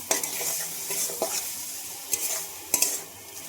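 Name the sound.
chicken and liver being stir-fried with potatoes and spices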